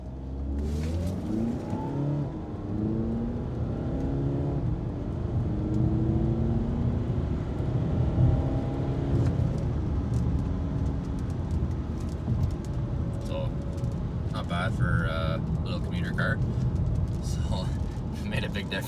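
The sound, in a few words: Volkswagen Passat TDI car driving on the road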